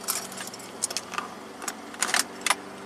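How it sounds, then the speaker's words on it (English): A set of car keys for a Mini jangles and clinks in several bursts of metallic rattling close by, over a faint steady hum, with no talking. "Keys on."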